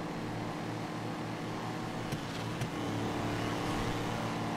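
Small lawnmower engine in the GTA FiveM game, a steady droning motor hum with a low pulsing rumble that holds throughout, with a couple of brief clicks partway through.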